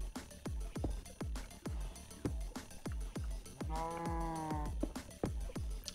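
Cows in the Minecraft video game, Bedrock Edition, give one drawn-out synthetic moo in the middle, over steady rhythmic game music with plucked notes.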